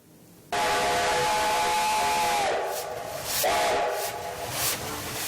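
A green steam locomotive decorated with lights and snowflakes, pulling Father Frost's train, gives a loud sustained whistle over a hissing steam roar, a brief pause, then a second whistle blast, close and dominant.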